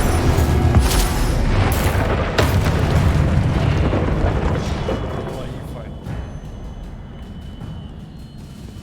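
The Incendio fire spell cast in the video game Hogwarts Legacy bursts out as a loud, booming blast that decays over several seconds, with excited voices and other spell effects around it.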